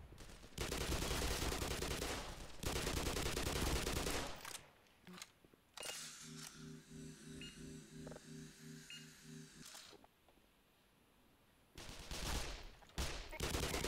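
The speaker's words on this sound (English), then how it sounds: "He threw a grenade." In the Black Mesa video game, a thrown grenade goes off amid loud, blasting bursts of combat noise, separated by a quieter stretch with a steady mechanical hum and a few sharp clicks.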